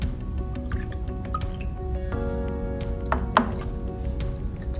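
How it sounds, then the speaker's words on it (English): Water mixed with calcium carbonate is poured into a filter funnel fitted with filter paper, giving soft steady trickling and dripping that swells briefly near the end, heard alone at close range. "And now I'm going to transfer this mixture solution to the filter funnel."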